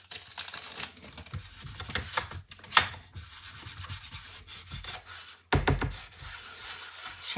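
An embossing buddy rubbed over cardstock for a Stampin' Up! Etched Autumn card makes steady scratchy rubbing strokes, close and continuous, with a few sharper scuffs and taps along the way and no talking.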